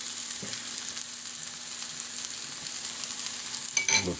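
Food for a big breakfast bun warms in a pan, giving a steady, moderate sizzle close by. A brief clink comes near the start and a clatter near the end.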